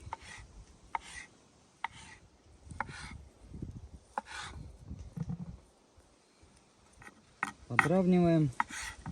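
A knife chops ingredients such as sausage and chicken breast for okroshka at an outdoor forest campfire kitchen, giving soft, irregular, quiet thuds and taps, followed near the end by a brief squeak.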